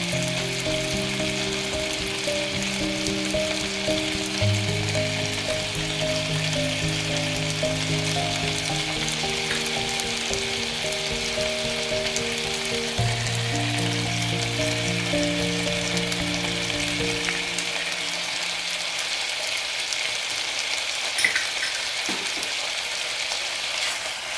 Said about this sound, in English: Stir fry until fragrant